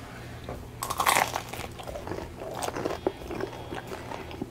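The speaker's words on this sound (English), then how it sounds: "Let's start with these crunchy breadsticks." Biting into crunchy baked breadsticks with caramelized cheese: a few sharp, close crunches followed by quieter chewing and crackling, soft overall with no talking.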